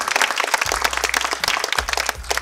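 Wedding guests give a dense, loud round of applause, many hands clapping at once and continuing steadily, with a low hum and brief low thumps underneath.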